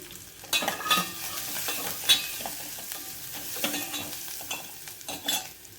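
Onions frying in a pan with turmeric for a no-dal sambar, a steady soft sizzle broken by a few scraping stirs and light utensil clicks, close by with no talking.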